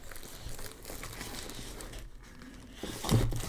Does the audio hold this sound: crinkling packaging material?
yes